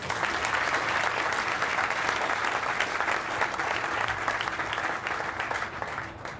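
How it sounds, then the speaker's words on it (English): A crowd applauds at a groundbreaking ceremony for a soccer stadium in Grand Rapids, with sustained, even clapping from many hands that fades slightly at the end. "So round of applause for Rockford"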